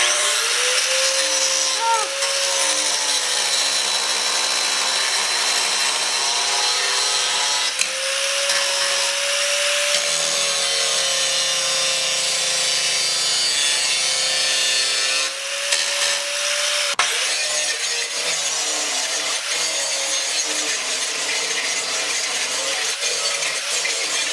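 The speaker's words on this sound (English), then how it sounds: "So I'm going to grind those down right now" An angle grinder cuts and grinds down the lips of a car's fenders for clearance, a loud, continuous high whine that holds steady for most of the stretch, with a few brief dips as the tool shifts against the metal.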